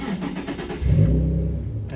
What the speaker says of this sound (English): Let's actually turn on the car.